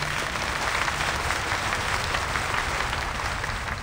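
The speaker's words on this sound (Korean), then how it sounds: "열렬한 박수 소리가 터져나왔지만" Enthusiastic applause from a hall crowd in the video game Reverse: 1999, a dense, continuous wash of clapping that holds steady at moderate volume without voices.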